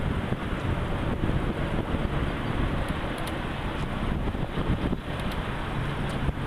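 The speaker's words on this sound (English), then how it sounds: "Sorry, it's a little windy if you guys couldn't tell." Wind buffets an outdoor microphone at a June 2020 commencement ceremony, a steady loud broadband rumble that fills the whole stretch with faint ticks above it and no clear speech.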